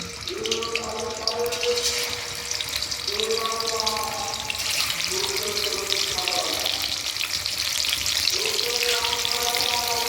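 Fish frying in hot mustard oil makes a steady sizzle and crackle that runs throughout, while someone talks over it.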